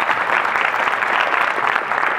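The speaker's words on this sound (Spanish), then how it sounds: "un aplauso para el Grupo Kepler" Steady, dense applause from an audience at an astronomy colloquium, honoring the Grupo Kepler, loud and even across the whole stretch with no talking.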